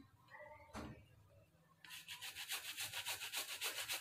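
A washed apple is grated into a cup of pancake premix, first a soft scrape and knock, then a quick run of rhythmic, close rasping strokes on the grater, no voices.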